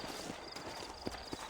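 Horse hooves clip-clop in Red Dead Redemption, set in New Ulster, as a few soft, irregular hoof knocks over a steady bed of game ambience, moderately close, without talking.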